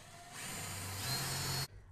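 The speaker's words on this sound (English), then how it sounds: "we're just going to go down the line here and just drill all these out." A power drill bores a pilot hole into the metal wall of an enclosed trailer, a single sharp whirring burst lasting over a second, close and alone, that rises in pitch as it bites and then cuts off abruptly.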